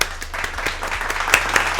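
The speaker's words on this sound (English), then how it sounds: "give me a round of applause" A round of applause with many hands clapping in a dense, crackling patter, fairly close and continuous throughout.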